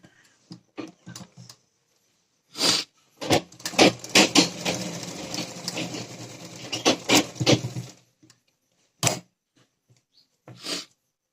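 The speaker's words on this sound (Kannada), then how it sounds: "ಬನ್ನಿ ಈಗ ಹೊಲಿದು ನೋಡೋಣ" A sewing machine stitches the side slit of a churidar, close by. Short separate bursts of stitching lead into one longer continuous run, followed by a few more brief bursts, with no talking.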